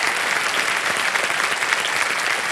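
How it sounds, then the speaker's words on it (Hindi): A studio audience on the KBC quiz show bursts into loud, steady applause to welcome a guest, a dense continuous wash of clapping with no talking. "जोरदार तालियों से उनका स्वागत करें"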